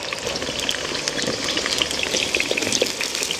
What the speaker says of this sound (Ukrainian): Буду жарити в два етапи, так як Треба її так гарно піджарити